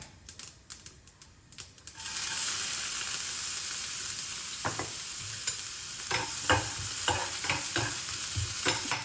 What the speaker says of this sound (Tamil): நான் ஒரு வெங்காயம் நறுக்கியிருக்கேன், அதைத்தான் வதக்கியிருக்கேன்